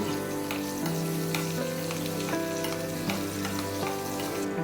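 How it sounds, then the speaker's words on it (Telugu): Green chillies fry in hot ghee for Chennai-style pepper pongal, giving a continuous dense sizzle and crackle with occasional faint pops, steady and close throughout. "ఆ ఉన్న నెయ్యిలోనే నేను గ్రీన్ చిల్లీస్ ఫ్రై చేసుకుంటున్నానండి"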